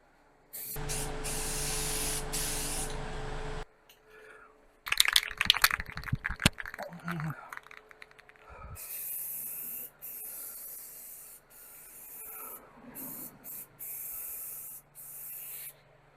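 Spray adhesive hisses out in long bursts while a tack coat goes onto a VW Beetle trunk guide rail seal channel, with clinks and handling clatter between the sprays.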